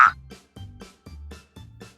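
A cartoon frog croaks four times in a steady rhythm, short low throaty calls spaced about half a second apart, close and clear after a brief higher squeak at the start.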